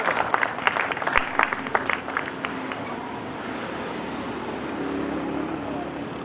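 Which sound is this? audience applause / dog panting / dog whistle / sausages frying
audience applause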